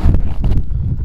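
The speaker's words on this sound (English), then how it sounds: "So now we have wind at 6 meters per second, gusting much more" Gusty wind buffets the microphone at an F5J electric glider contest in the Loire Valley, France, a loud rumbling roar that swells and dips for about a second.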